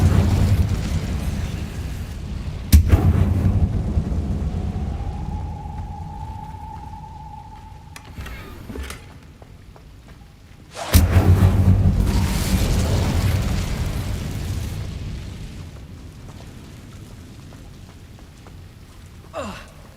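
An Incendio fire spell is cast in Hogwarts Legacy, each cast a sudden loud whooshing burst that decays slowly, heard twice with a thin tone between them and a faint click near the end.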